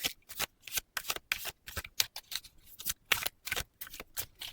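Tarot cards shuffled by hand at close range, a quick series of crisp riffling swishes in a steady rhythm, soft and isolated.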